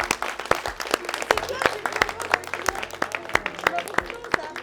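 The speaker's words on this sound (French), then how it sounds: "Ouais, on peut s'applaudir." A small group of colleagues applauds themselves during a casual selfie moment, with uneven individual claps ringing out close by, alongside some voices.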